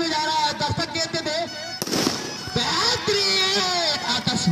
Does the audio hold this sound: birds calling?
no